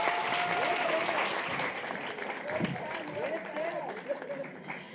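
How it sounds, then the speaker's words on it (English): Applause from a women's empowerment event audience in Cape Town, a continuous soft wash of clapping at moderate distance while a voice speaks over it. "Please give her a huge round of applause."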